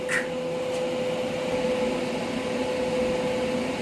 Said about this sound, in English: And now we do some welding.